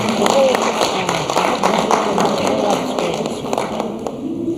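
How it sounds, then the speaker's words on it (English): Scattered audience clapping for a keynote speaker at a Pan African leadership symposium, a loose patter of claps heard through steady hall murmur and voices. "A round of applause for Dr. Fazam Kamalabati."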